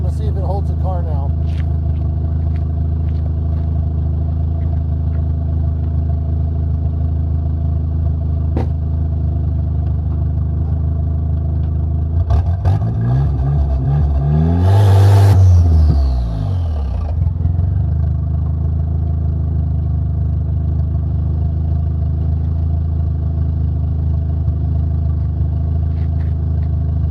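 A car engine idles steadily at close range, then swells in a single revving surge midway before settling back to a level hum while the e-brake is tested for hold, with someone speaking over it.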